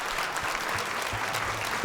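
Dense audience applause in a talent show hall, a continuous wash of many clapping hands at full volume throughout, with a faint voice briefly underneath.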